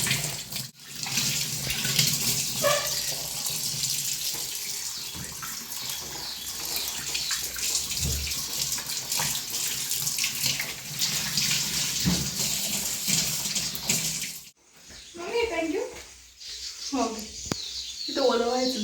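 Running tap water pours steadily into a kitchen sink while tea dishes are washed and the basin cleaned, a continuous hiss with occasional clinks; the flow cuts off briefly near the end, followed by some voice-like sounds.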